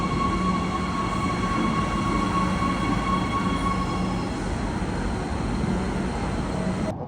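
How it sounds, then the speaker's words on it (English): A train near Kleinfontein outside Pretoria rumbles loudly and continuously close by, with a steady mechanical drone and faint high whine from the wheels, ending abruptly. "it sounds like the train is coming right now"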